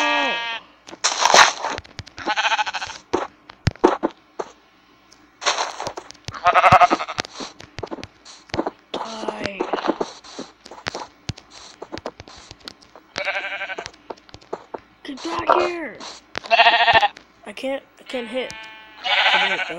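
Sheep bleating in Minecraft Pocket Edition, a series of short wavering bleats with sharp hit clicks and gaps of near silence in between, loud and close.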